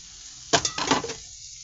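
A splash of soy sauce hits a hot pan and bursts into a loud, short sizzle that crackles for about half a second before settling back to a quiet background hiss.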